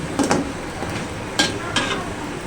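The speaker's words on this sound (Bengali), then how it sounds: "আমি এইভাবে সবগুলি বড়া ভেজে নেব" Okra fritters (bhendi bora) fry in hot oil with a steady sizzle, while a few sharp clinks of a utensil against the pan break through at intervals.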